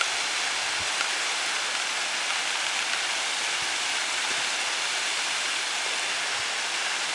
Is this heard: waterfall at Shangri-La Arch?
yes